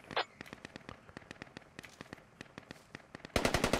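Automatic gunfire in the military shooter game Squad crackles in rapid, evenly spaced shots that run steadily, then a louder, closer burst of fire erupts at the end.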